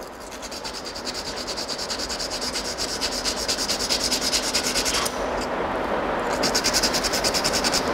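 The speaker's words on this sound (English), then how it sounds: "So we have to sand it properly to remove the layer so that we can get accurate results." Abrasive paper rubbing back and forth on a magnesium strip, a continuous close scratchy sanding with fast regular strokes, briefly pausing before resuming, no talking.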